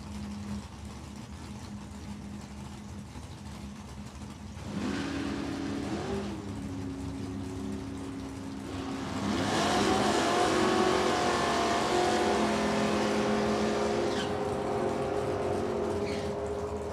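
Drag racing cars launch at an NHRA event at Thunder Valley Motorsports Park, rising from a distant idle to a loud, sweeping roar as the cars accelerate down the strip, with no talking.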